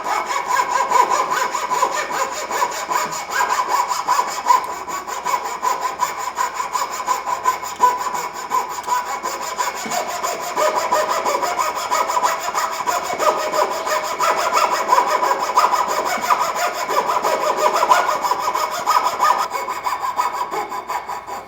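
A coping saw cuts through wood in a long run of brisk, even strokes, close and fairly loud, alone without speech.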